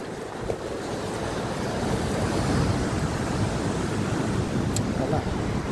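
Ocean waves wash continuously onto a beach, a steady broadband roar of surf with wind buffeting the microphone throughout.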